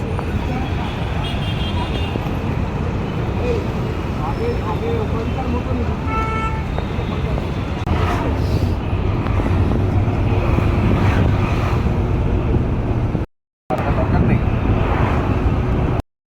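Buses and general street traffic on a busy city road in Hyderabad, with a horn toot and steady engine rumble close by, while people talk over the continuous roar.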